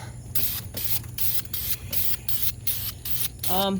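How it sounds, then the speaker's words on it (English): Aerosol enamel spray paint hissing from a can in repeated bursts of about half a second, with short pauses between each, as it coats the barrels of a 2004 Saturn VUE's Redline wheels up close. "when I'm spraying up high."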